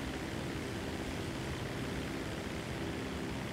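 A plane flying in the video game GTA Online, a steady broadband propeller-engine drone held at an even level for a few seconds with no talk over it.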